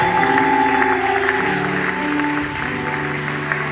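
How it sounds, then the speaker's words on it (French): A church congregation at a Sunday service in Kinshasa applauding: dense, continuous clapping from a large crowd, with sustained music tones running underneath. "Est-ce que nous pouvons acclamer pour notre courage?"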